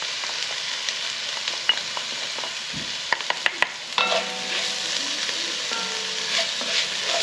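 Garlic sautés into browned beef in a hot pan, giving a steady sizzle with scattered clicks and scrapes of a spoon stirring, the frying growing louder and fuller partway through.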